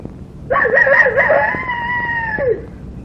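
A voice imitates a rooster crowing: a single loud, close cock-a-doodle-doo lasting about two seconds with a rising, then sliding pitch, heard alone against quiet background.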